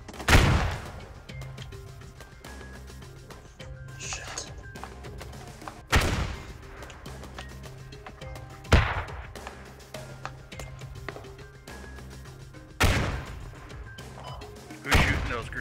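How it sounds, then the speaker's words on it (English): Heavy gunfire in the military shooter Squad, with several sharp, loud broadband bursts spaced irregularly over a steady low rumble of background battle noise; no talk is heard. "That was me shooting at the hill."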